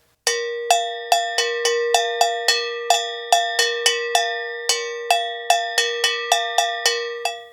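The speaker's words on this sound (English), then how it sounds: "And the answer is... Engelhardt bells." Engelhardt bells struck in a steady, slightly uneven rhythm, each bright metallic ring decaying quickly before the next, about twenty hits alone and close up.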